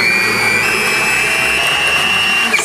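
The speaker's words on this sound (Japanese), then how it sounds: "早速もうミキサーしていきますね、" A blender blending watermelon whirs in a steady, loud high-pitched drone, its motor pitch holding constant before a brief shift at the end.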